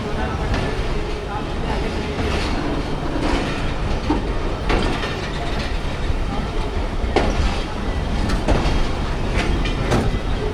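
Pakistan Express train rolling on the rails in early-morning rain while diverting onto the main line, heard from inside with a steady loud rumble, rhythmic clickety-clack of wheels over joints and faint voices beneath.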